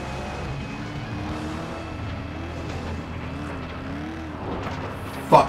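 Race cars drive in the video game Flatout 2, a continuous engine drone with a slowly wavering pitch that holds at a steady level and ends in a sudden sharp crash.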